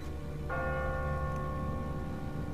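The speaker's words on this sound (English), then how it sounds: "Ask not for whom the bell tolls." A church bell in The Walking Dead video game tolls from a bell tower: a single loud, ringing strike that rises above a low ambient hum and sustains its humming overtones as it slowly fades, with no voices.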